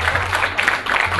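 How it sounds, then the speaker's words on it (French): An audience applauds a lady at a Mother's Day show; a brief, steady burst of clapping with a low background hum. "Est-ce qu'on peut applaudir pour la dame s'il vous plaît?"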